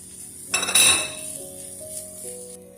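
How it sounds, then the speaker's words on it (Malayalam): A metal spoon clanks against a pan as crushed chicken is stirred into fried onions, a couple of sharp clinks over a soft, steady sizzle. "നമ്മൾ ഇട്ട് കൊടുത്ത ചിക്കൻ നന്നായിട്ട് ഇതിൻ്റെ ഉള്ളിലിട്ട് ഇളക്കി ഞാനിനി യോജിപ്പിച്ചുകൊണ്ടിരിക്കുക"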